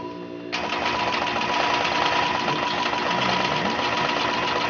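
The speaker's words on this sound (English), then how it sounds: "I'm ready to use the ruler as a guide as I gently push the machine along that seam" A longarm quilting machine stitches along a seam, its motor starting up and settling into a fast, steady mechanical hum with rapid needle chatter, close and continuous.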